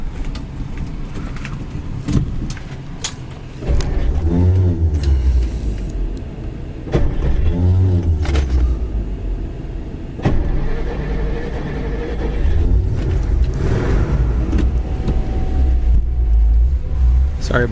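A 1958 Ford Retractable engine runs steadily while the car drives on an icy road, a low continuous rumble with occasional revs and clunks, voices talking intermittently over it.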